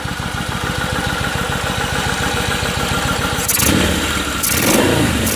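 A Kawasaki Vulcan 1500A motorcycle idles close by with a steady, lumpy low-pitched engine pulse, then blips its throttle twice near the end, each rev rising briefly louder before settling back.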